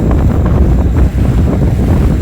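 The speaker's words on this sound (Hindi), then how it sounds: "ये देखें, ये समंदर है।" Sea waves and wind roar steadily at a blue-water seashore, a loud continuous rush of surf with gusting wind buffeting the microphone throughout.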